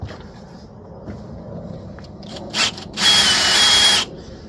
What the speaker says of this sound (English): We're going to have to drill it out